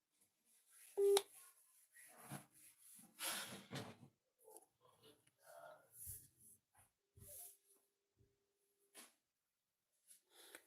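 A phone call is placed: short dialing tones sound early, then faint, sparse beeps and a steady connecting tone come and go amid breathing, shuffling and a dog's soft whimpers in a quiet room.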